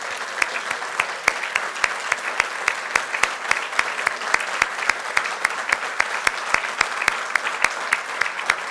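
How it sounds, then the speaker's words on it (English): Audience applause at a candidate forum in La Verne, a sustained room-filling clapping with sharp individual claps standing out over a steady wash, no voices. "A round of applause for all of our great citizens of this great country."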